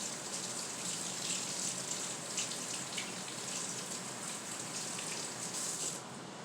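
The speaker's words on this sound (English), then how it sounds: "Let me rinse my hands off again." A kitchen tap runs steadily while hands are rinsed under it, a continuous soft splashing stream with small spattering bursts, no talk.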